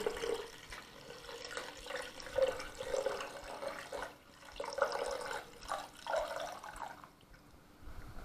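Liquid poured over mackerel packed in onion skins, a moderate splashing, trickling pour with a few brighter gurgles that runs for several seconds and then tapers off.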